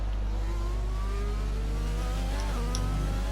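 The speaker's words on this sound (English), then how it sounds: "we're accelerating again. Here we are, just pure acceleration now." An F1 car accelerates in F1 2020 with a loud, close engine whine whose rising harmonics climb steadily through the gears, with no voices.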